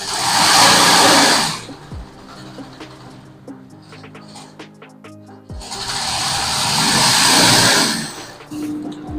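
A sewing machine stitching a keychain in a keychain workshop in Melvisharam runs in two loud, steady whirring bursts, with a quieter pause between them.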